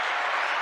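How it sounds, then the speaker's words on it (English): A short burst of steady applause plays from a soundboard during a talk show, dense and even for under a second, with no talking over it. "Give her that applause."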